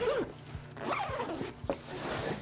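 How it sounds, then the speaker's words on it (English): A zipper is drawn shut on a carrying case for an Observ skin diagnostic device, a few quick close scraping runs with a brief snag, nearby and clear, no talking. "Zip it up."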